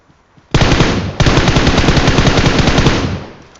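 Loud, close automatic gunfire in PUBG Mobile, a dense continuous burst starting abruptly, breaking off briefly, then resuming and sustaining before tapering near the end.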